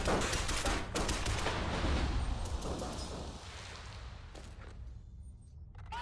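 Enemy gunfire from a bridge in the video game Shadow Complex crackles as rapid, dense bursts of shots that are loud at first, then thin out and fade toward the end.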